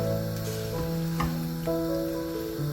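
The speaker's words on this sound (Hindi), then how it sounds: "थोड़ा फ्लेम को हाई करेंगे और भिंडी को मसाले के साथ भूनेंगे" Okra frying with masala in a pan over high flame, giving a steady close sizzle with occasional scraping and stirring touches, and no voices.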